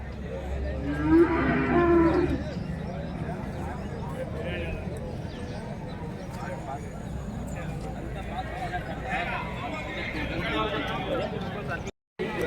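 Native cattle at a weekly cattle market in Krishnagiri district low loudly and close at the start, then a busy market hubbub follows with people talking and faint hoof clatter throughout.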